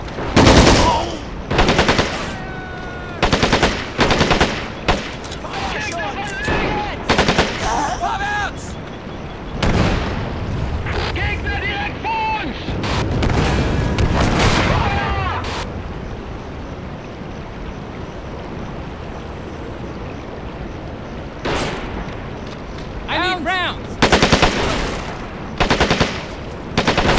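World War II battle sounds from the Men of War strategy game: bursts of machine-gun fire and heavy booming shots and explosions, loud and close, in irregular clusters separated by quieter stretches of rumbling background.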